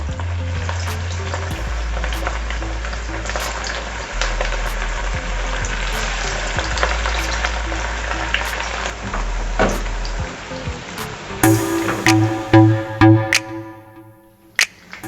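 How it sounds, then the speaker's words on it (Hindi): Mutton koftas are dropped one by one into hot oil and fry with a steady, loud crackling sizzle, with a few clinks and bubbling bursts toward the end. "इसमें हम ये 1 बाय 1 जो कोफ्ते हमने तैयार की थी ये डाल देंगे"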